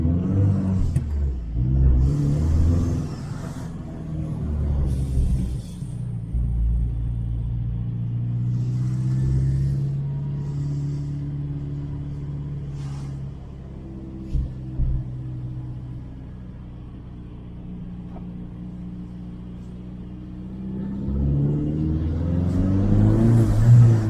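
A Saab 9-5 Aero RWD engine revs up under turbo boost, a deep loud rumbling that climbs in pitch, eases and rises again, recorded close with no talk.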